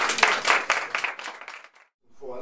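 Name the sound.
audience applause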